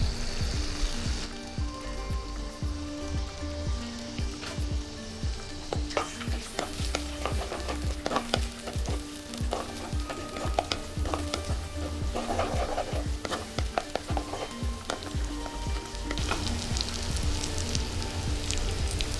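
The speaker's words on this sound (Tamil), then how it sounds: "நீங்கள் நல்ல சூடாகி கொண்டு வரக்குள்ள இடித்து வச்ச இஞ்சி பூண்டை போடுங்க." Crushed ginger and garlic fry in hot oil in a clay pot for a Sri Lankan chicken curry, a dense crackling sizzle that flares louder partway through, mixed with scattered clinks and scrapes of stirring, with no voices.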